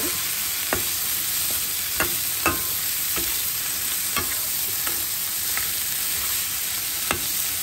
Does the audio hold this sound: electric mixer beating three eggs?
no